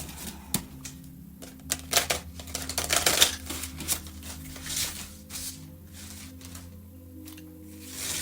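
An oracle card deck is shuffled and cut by hand in a quiet room, with rapid papery riffling and flicking bursts up close, a busier flurry in the middle, then sparser card taps.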